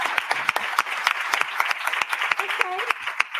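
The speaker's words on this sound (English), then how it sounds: "All right, let's clap for president," A small audience claps for a university president, distinct individual hand claps sounding close and uneven, with a voice murmuring underneath.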